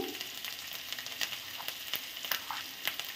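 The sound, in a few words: tomato paste and turmeric frying in a pan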